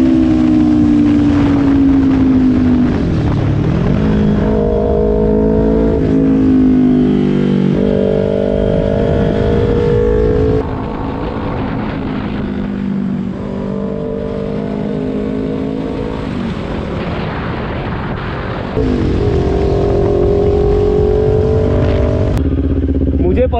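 A Kawasaki Ninja 400 motorcycle engine roars loud and close, its pitch climbing and falling through repeated rev sweeps and gear changes across the whole span, with steady harmonic engine tones throughout and no talk audible over it.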